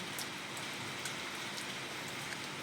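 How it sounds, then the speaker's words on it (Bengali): Continuous rain falls as a soft, steady patter with scattered closer drops, fairly faint and even throughout, and no voices. "বৃষ্টিটা কন্টিনিউ হচ্ছে"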